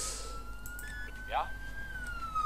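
An emergency vehicle siren in the Emergency 4 video game, set in London, wails as a steady, slowly bending tone. A brief voice sounds partway through, over low background rumble.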